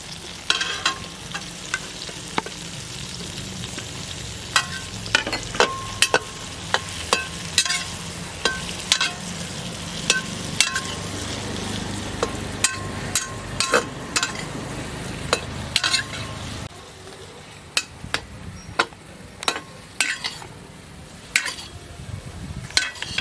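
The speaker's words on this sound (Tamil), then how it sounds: "தக்காளி வதக்கிக்கலாம். தேங்காய் வதக்கிடுவோம்." Tomato and coconut sautéing in a pan for a duck curry gravy, with a steady sizzle broken by repeated scraping and clinking strokes of a spoon against the pan, close and fairly loud, with no voices.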